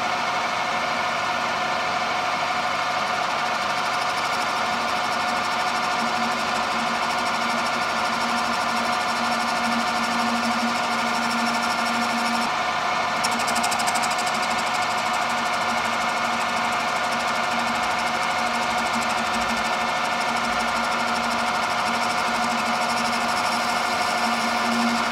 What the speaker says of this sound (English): So I wonder if I can clamp this into the lathe, get it centered somehow,